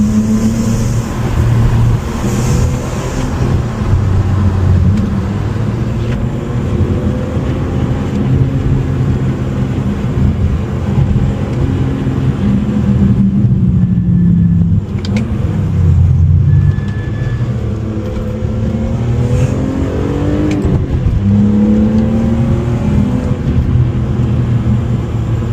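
Performance car engine, a BMW E46 M3 or Renault Clio V6 Phase 1 on UK country roads, droning loudly and continuously as revs climb and fall through gear changes, heard from inside the cabin with no speech.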